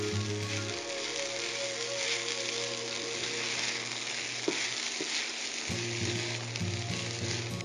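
Chicken and egg fry in a pan for quinoa chaufa, producing a steady, dense sizzle with a low hum underneath and a couple of small clicks, and no voices.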